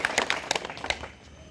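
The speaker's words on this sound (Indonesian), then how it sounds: "Mari kita tepuk tangan." A crowd at a peaceful demonstration clapping hands, a brief burst of loud, fairly rhythmic claps that fades quickly, with voices mixed in.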